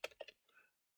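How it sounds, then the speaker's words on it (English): A few quick keystrokes on a computer keyboard, faint, close clicks in a short burst followed by a softer tail, with no talking. "Didn't mean to be typing there."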